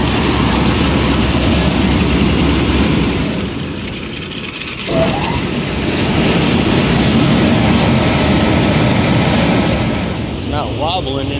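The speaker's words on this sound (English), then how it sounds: "and just kick the blower on" An industrial direct fired burner's blower runs as a loud, steady broadband roar that dips briefly when switched and then resumes, with a few faint clanks near the end.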